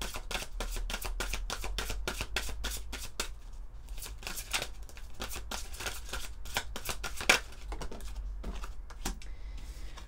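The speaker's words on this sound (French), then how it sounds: "On va prendre quelques cartes de l'oracle E." Oracle cards being shuffled by hand: a fast, dense run of soft, crisp riffling flutters, close and fairly quiet, continuing steadily with brief pauses and no talking.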